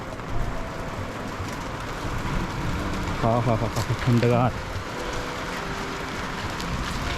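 Hailstones pelt a roof during an unseasonal storm, a steady wash of scattered hard impacts with a few heavier hits, while a person speaks briefly in the middle.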